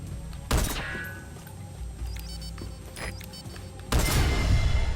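Gunfire erupts in Metal Gear Solid V: two heavy broadband blasts, one near half a second and a louder sustained burst near four seconds, with scattered smaller shots and clatter between them, no talk.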